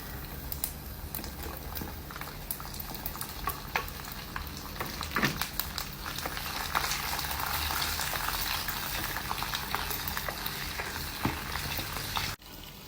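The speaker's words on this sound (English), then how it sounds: "ஜோம் எண்ணெய் ஊத்திட்டு நம்ம இது எல்லாமே முதல்ல goreng பண்ணிரலாம்." Ingredients for sambal, including anchovies, frying in oil with a steady crackling sizzle and occasional stirring scrapes. The sound is close and constant and grows a little denser toward the end before a sudden cutoff.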